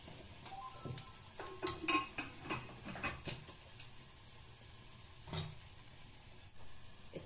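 A spoon scrapes and clatters in a pot while swamp eel fish curry is stirred, soft irregular knocks and scrapes over a faint sizzle, close but quiet.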